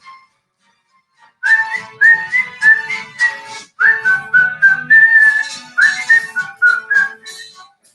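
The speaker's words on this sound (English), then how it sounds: "Is whistling hard?" A person whistles a bright, lilting melody alone, with short phrases separated by brief pauses, close and clear.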